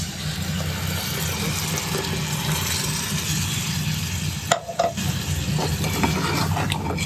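Tomato puree poured into a hot pan with a little red chilli masala for home-style tomato saar, a loud steady close sizzle and frying hiss while it is stirred, with a brief scrape of the utensil midway.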